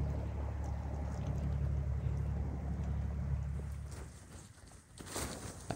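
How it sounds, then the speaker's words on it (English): A boat engine passing along the Sardinian coast, a steady low droning hum held for several seconds, then easing off as the boat moves away, with some wind noise. "I was woken up by the sound of a boat engine going by."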